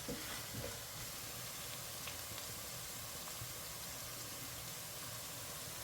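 Tomato masala fries in oil for a Fiji-style fish curry, a steady, broad sizzling hiss that holds evenly from start to end with no speech.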